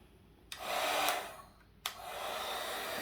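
A hand-held hair dryer on its low setting blows over a Super Mario cake topper, switching on in two steady bursts of broadband whooshing air with a short lull between, close by and fairly quiet.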